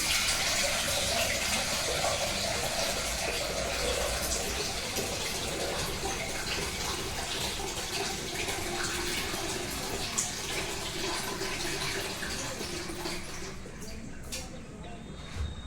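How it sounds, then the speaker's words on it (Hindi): Water running from a tap, a steady hissing splash that carries on throughout at moderate level, with someone talking over it. "तो चलिए पानी हम थोड़ा ले लेते हैं।"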